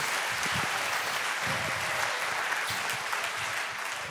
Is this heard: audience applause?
yes